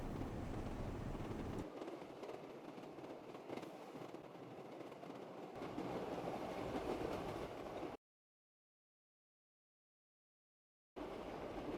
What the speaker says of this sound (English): Now you're going to ride the train from the Footlight District to the Canal District